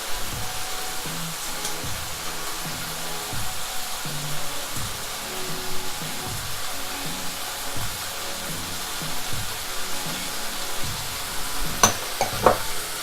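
Thai basil pork with green beans stir-fries in a hot pan as hoisin sauce goes in, making a steady, close sizzle with rhythmic stirring scrapes and a few sharper clinks near the end.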